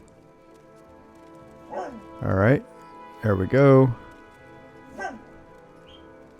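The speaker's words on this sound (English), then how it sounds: "Dog is letting me know that she wants to go out." A dog whimpers and yips in a few short, rising bursts indoors, asking to go out, with sparse talk nearby.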